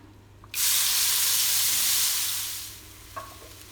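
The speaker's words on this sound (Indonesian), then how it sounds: "Tumis bumbu yang sudah dihaluskan." A sudden loud sizzle erupts as ground spice paste hits hot oil, hissing strongly for a couple of seconds before gradually dying down, with a faint clink near the end.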